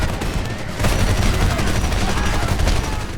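Rapid bursts of gunfire in the game Homefront crackle continuously and loudly across a dense battle mix, with overlapping shots and booms and no clear gaps, in a first-person shooter firefight near a house.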